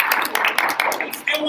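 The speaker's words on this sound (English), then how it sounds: "All right, clap for Ricky." An audience claps for a speaker at a closing-statements and rebuttals event. The quick, sharp claps sound close and land under and between talking voices.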